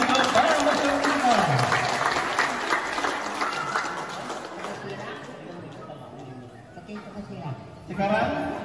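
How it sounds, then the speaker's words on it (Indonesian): An audience applauds participants at a Dayak Kantu' Rudieng music concert, with steady clapping and crowd chatter that thins out, then swells again near the end, while voices are heard among the crowd. "Tepuk tangan untuk para peserta."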